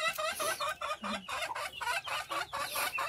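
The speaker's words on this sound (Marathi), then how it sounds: "ह्या कोंबड्या पण भरपूर आहेत" A flock of about fifty farm hens clucks repeatedly and close, in quick overlapping calls with a brief low grunt in the middle.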